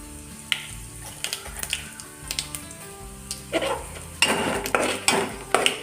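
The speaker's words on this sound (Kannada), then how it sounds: "ಬೇಳೆಗಳೆಲ್ಲ ಚೆನ್ನಾಗಿ ಕೆಂಪಾಗಬೇಕು. ಈ ಟೈಮಲ್ಲಿ ಜೀರಿಗೆ ಹಾಕ್ಕೊಳ್ಳಿ." Lentils and cumin seeds frying for khara bath, with irregular clinks and scrapes of a spoon against the pan over a light sizzle that thickens toward the end.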